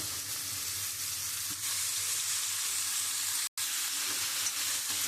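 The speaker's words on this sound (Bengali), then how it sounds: "এবার মাংসটা দিয়ে আলুটা দিয়ে খুব ভালো করে কষিয়ে নেব।" Chicken pieces and potatoes fry in a pan for chicken kosha, giving a steady close sizzle and hiss with light stirring and one very brief break.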